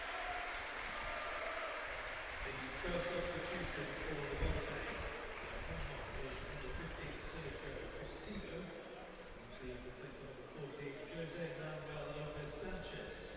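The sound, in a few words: Southampton supporters applauding at a football match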